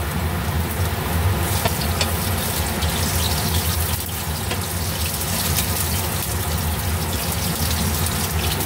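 Garlic sautéing in a pan for coconut-milk pinakbet gives a steady, close, loud sizzle and hiss that runs unbroken throughout, with no voices over it.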